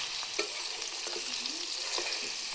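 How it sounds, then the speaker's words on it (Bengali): Garlic and onions fry together in a pan, giving a steady bright sizzle broken by soft scraping strokes of a spoon as they are stirred, close and alone with no talk. "রসুনগুলো দিয়ে নাড়বে পেঁয়াজের সাথে, লাল টকটকে করবে"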